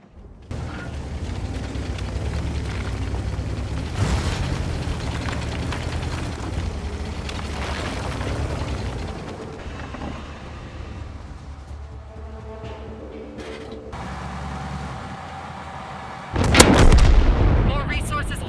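Tank cannon shots and explosions in a video game featuring the MKpz 68(P): sustained low rumbling battle din with booming blasts, ending in a sudden loud, close cannon shot and explosion near the end.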